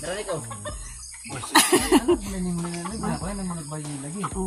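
Chickens clucking and squawking nearby at a catfish farm pond, mixed with people talking over a busy outdoor background.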